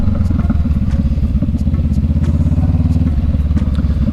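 A Honda motorcycle rides along at roughly 30 mph in Oregon, its engine putting out a steady, loud, close throbbing drone with rhythmic pulsing throughout.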